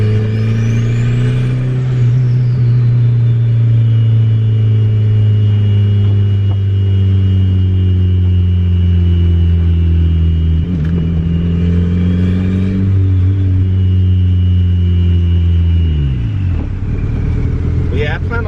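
A turbocharged B20V Honda Integra making about 270 wheel horsepower on drag radials accelerates on a wet street, its engine droning loud and steady, rising in pitch with shifts before cutting off near the end.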